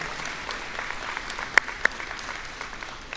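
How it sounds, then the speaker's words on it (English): Faint, fairly distant applause from graduates at a Take Stock in Children awards ceremony, steady clapping with a couple of sharper claps standing out nearby. "So graduates, a round of applause for the mentors for getting up their time to make a difference for you."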